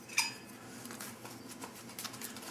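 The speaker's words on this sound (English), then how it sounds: "Stir it up with the spoon." A spoon scrapes and clinks as it stirs food inside an MRE pouch from a 2004 Menu 9 ration, making quiet, close scratching and rustling with one brighter clink near the start.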